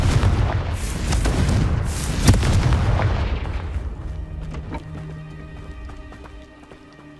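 A Confringo fire spell in Hogwarts Legacy bursts amid dense, loud game action, with booming impacts and a sharp blast near the middle before the noise thins into a quieter ambient tail.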